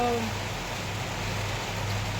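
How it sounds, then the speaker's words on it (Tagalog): Light rain by a roadside, a soft, even hiss of drizzle that holds steady throughout with a low background rumble and no one talking. "Medyo nag-uulan-ulan po."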